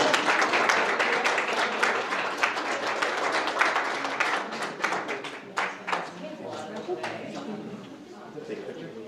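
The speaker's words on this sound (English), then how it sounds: "Another round of applause for our outstanding students." Audience applause for outstanding students at a superintendent's student-of-the-month presentation, steady clapping from a room of people that gradually thins out toward the end.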